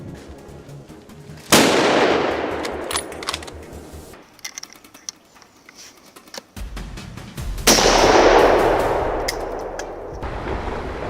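Two loud gunshots ring out several seconds apart on a mountainside during a wild boar hunt, each followed by a long rolling echo, with faint rustling and clicks in between.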